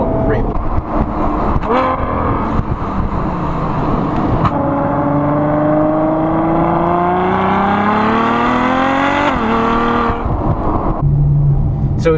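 A Ferrari FF's powerful V12 engine roars loudly throughout, its pitch climbing and falling as it revs through gears, with brief gear-change dips.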